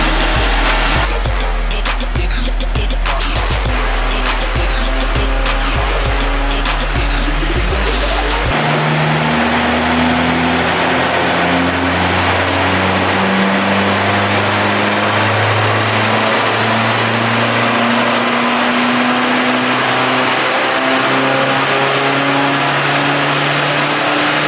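A converted VW Caddy with a PD130 diesel engine revs hard on a dyno, loud and close. A dense burst of revving gives way to long sustained pulls with steady rising engine tones, and no one speaks.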